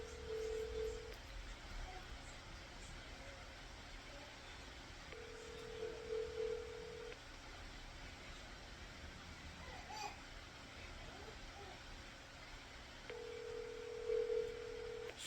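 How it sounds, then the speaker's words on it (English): A telephone call being placed, with steady dial or ringback tones repeating in three separate bursts over faint background noise. "Let me call her right now."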